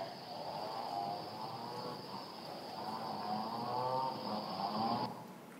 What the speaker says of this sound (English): one of my favorite monkeys, howler monkeys, several calls there, many species of birds, cicadas, other bugs